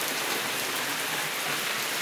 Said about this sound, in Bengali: দেখো গাইস কি জোরে বৃষ্টি হচ্ছে এখানে